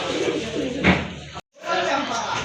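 Pigeons in a Lahori pigeon collection coo softly close by, mixed with voices and background noise, and the sound drops out briefly partway through.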